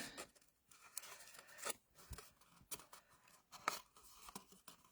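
Card being trimmed with scissors for a box, quiet close snips and rustling scrapes in an irregular run of short cuts.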